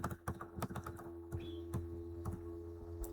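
Keys clatter on a computer keyboard as code is typed in quick bursts of close clicks, with brief pauses between runs and a steady low hum underneath.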